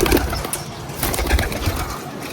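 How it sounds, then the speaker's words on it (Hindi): Pigeons coo softly and continuously as they are let out of their enclosure, with some rustling and background noise around them. "ये दोस्तों कबूतर सारे बाहर"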